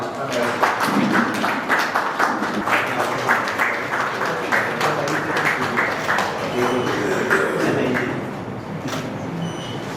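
Audience at a medical association inaugural meeting applauds a doctor being introduced, with loud, dense clapping from many hands that runs steadily for most of the stretch and then thins out near the end, with some voices mixed in.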